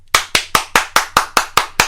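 A single pair of hands claps eight times in a steady, quick rhythm, each clap sharp and close, with no voices.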